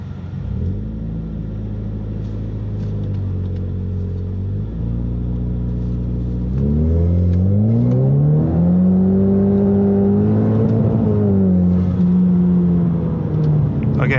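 A turbocharged EcoBoost Mustang doing a boost launch with its rear tires spinning: a steady loud engine drone that rises in pitch after the midpoint and holds high as the revs climb, with no shift.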